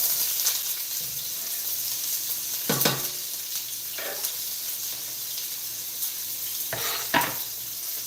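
Onions sizzling in a wide pan for pasta, a steady close frying hiss with a few louder bursts of spatter and clinks of utensils against the pan.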